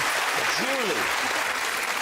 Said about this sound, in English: a round of applause for some lovely performance there